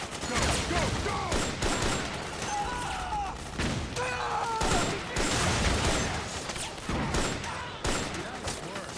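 Suppressing gunfire in Metal Gear Solid 4, a dense, continuous fusillade of overlapping shots and mechanical clatter, loud and close, with shouted voices mixed in among the bursts.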